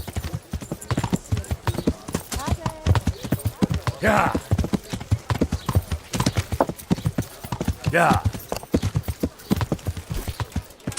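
Horse hooves clip-clop steadily in the medieval game Kingdom Come: Deliverance, a close rhythmic trot of clear hoofbeats running throughout, with brief snorts and short spoken replies mixed in.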